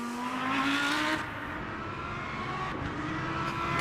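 A Lamborghini Huracán Evo race car in the Le Mans Ultimate racing game holds a loud, continuous engine note that climbs steadily in pitch through the gears, with no voices over it.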